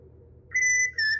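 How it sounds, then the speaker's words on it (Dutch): Short two-tone human whistle in the Outlast Whistleblower video game, a clear steady pitch held briefly, dropping out, then returning over a low background hum. "Stop met dat gefluit, jongen."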